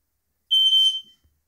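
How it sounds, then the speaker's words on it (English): A single short, high-pitched electronic beep from a smoke alarm as power returns from a solar backup system, clear and close, followed by silence. "The smoke alarm's back up."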